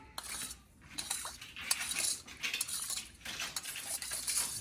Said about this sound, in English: we can go ahead and stir that up. Get that all combined